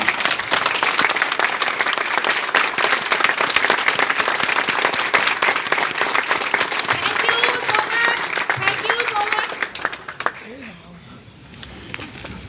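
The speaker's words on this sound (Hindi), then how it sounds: "एक बार आप लोग खड़े होकर जोरदार तालियों से उनका आभार प्रकट करें।" An audience stands and gives loud, sustained applause at a Safedeal event, dense clapping from a large crowd that fades toward the end as a voice begins over it.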